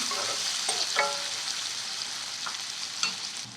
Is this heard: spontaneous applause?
no